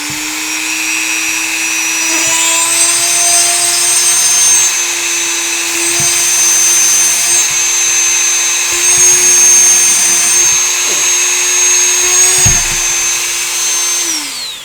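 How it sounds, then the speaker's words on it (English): A power drill whines steadily at high pitch, boring through stone in several long bursts with brief pauses and a final wind-down. "you got to be cautious with how you're drilling"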